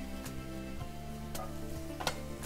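Garlic added to onion frying in hot oil, a quiet, steady sizzle with a few sharp utensil taps against the pan, close and without talk.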